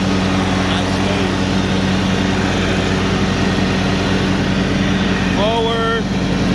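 Toro TimeCutter z4200 42-inch zero-turn riding mower engine running smoothly at a steady close drone with a low rumbling hum throughout, a brief whistling tone near the end.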